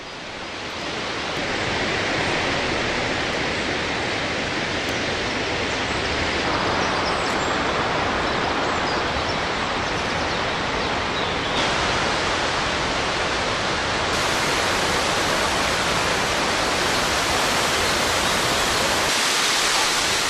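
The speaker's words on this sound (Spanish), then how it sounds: "la cascada más alta de Croacia, de 78 metros." The highest waterfall in Croatia, 78 metres tall, in a steep rocky canyon with white walls, its water roaring as a loud, steady broadband rush that continues without a break and without any voices.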